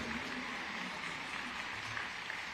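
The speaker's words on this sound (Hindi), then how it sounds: "बड़ी जोर से ताली बजाकर ये योग्य सम्मान का समर्थन करिए" A large audience at the Maharashtra Bhushan award ceremony in Kharghar, Navi Mumbai, claps in a steady wash of applause, faint and distant, with no voices over it.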